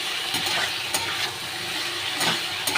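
Fish curry ingredients with ginger and cumin paste sauté in a pan, a steady close sizzle with a few scraping stirs along the way.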